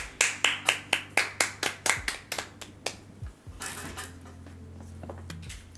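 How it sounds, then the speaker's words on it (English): One person claps about ten times in a steady quick rhythm, moderately close in a room. A few scattered claps and a short noisy burst follow, then a low background hum. "Random clapping."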